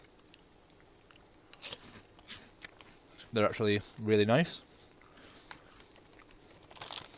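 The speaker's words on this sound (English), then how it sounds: "It's important you get the crunch of a crisp." Close chewing of crunchy C-shaped crisps, a run of small crisp bites and crinkles, with a short spoken remark in the middle of the munching.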